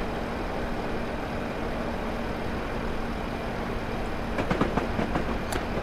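A Train Simulator locomotive coasting with no throttle at about 40 on the South Wales Coastal line, a steady low rolling rumble with a few rail clicks and clatters near the end, no voices.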